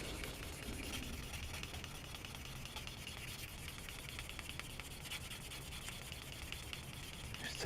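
Steady rubbing and scraping of sanding across a small plastic part from a 1/12 scale Tamiya Yamaha YZR M1 '09 motorcycle model, continuous and close with an even, hissy texture and no talking.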